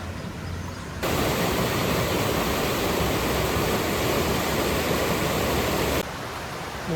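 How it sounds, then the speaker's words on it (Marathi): Sawatsada waterfall near Chiplun on the Mumbai–Goa highway roars as a steady, loud broadband rush of falling water, swelling in after the first second and holding constant for about five seconds before easing back. "या समोर धबधबा."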